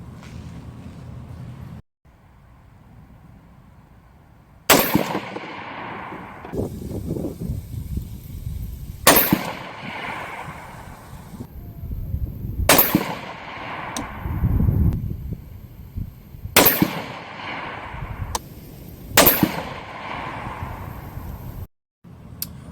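Rifle shots from a 224 Valkyrie loaded with Hornady 80 grain ELD Match rounds on a range: five sharp, loud reports spaced a few seconds apart, each with a decaying echo, and handling noise between shots.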